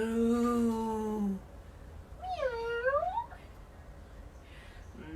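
A human voice imitates a cat, giving two drawn-out meows: a long flat one, then a rising, bending one, fairly close in a quiet room.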